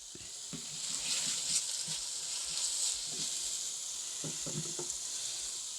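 Shrimp scampi, with the shrimp and their juices, sizzles steadily in a pan on the stove, a constant bright hiss broken by occasional soft clicks of stirring, with no talking.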